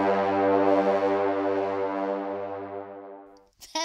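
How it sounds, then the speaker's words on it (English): A train engine warming up sound effect: a steady, droning horn-like tone that holds for several seconds, slowly softens, and then cuts off into a short clatter. "That's the sound of an engine warming up and our train is getting ready to go."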